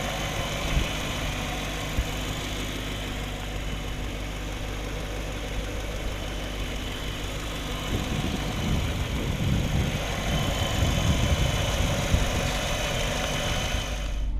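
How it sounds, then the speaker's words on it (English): A 1959 Chevrolet Bel Air with a 250-horsepower 348 V8 idles steadily with the clutch engaged, a close, continuous low rumble with a slight knocking pulse that grows rougher and louder partway through. "So the car's sitting here idling with the clutch engaged."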